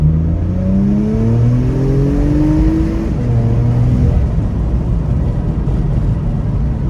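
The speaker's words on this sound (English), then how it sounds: "You can actually hear the air going in" A Porsche Macan's turbocharged engine with a high-flow air filter revs and climbs in pitch with a rushing whoosh of intake air, holding a strong steady roar throughout.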